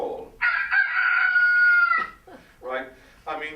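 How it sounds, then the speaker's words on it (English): A rooster crows once in a long, loud, drawn-out cock-a-doodle-doo, close and clear, followed by a few shorter clucking calls. "When a rooster crows,"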